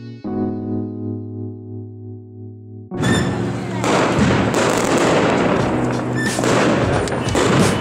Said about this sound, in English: People are still setting up fireworks.